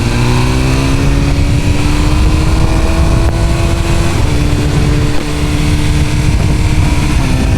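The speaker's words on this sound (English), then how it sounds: "I'm finally riding our M1000RR with this BrenTuning flash and the supporting mods that we did, and also that aero header and mid-pipe" A 2023 BMW M1000RR motorcycle with a BrenTuning stage 2 flash, aero header and mid-pipe, roaring loud and continuous while ridden, its engine pitch climbing steadily through the gears amid wind rush.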